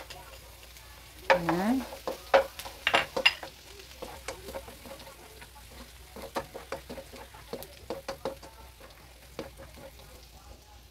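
Onion and garlic sizzle and fry in a hot pan as pancit canton is cooked, with a strong burst of crackling and spatula stirring early on, then steady quieter frying with scattered pops; a voice speaks briefly.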